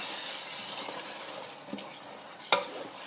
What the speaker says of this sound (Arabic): وتحطوا الثوم نتاعكم الكل. نحرك توا الطنجرة